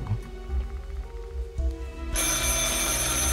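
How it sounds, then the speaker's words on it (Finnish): A telephone rings inside the horror video game Bigfoot, a bright electronic ringing that starts partway through and holds steady and loud after a quieter stretch of low ambient game sound. "tää puhelin rupes soimaan"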